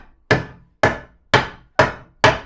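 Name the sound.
hammering thin metal plate over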